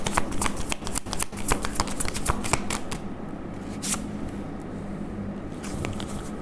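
Tarot cards are shuffled and drawn close up, with a rapid riffling flutter for about three seconds that eases into a softer, quieter rustle of handled cards, and no voice over it.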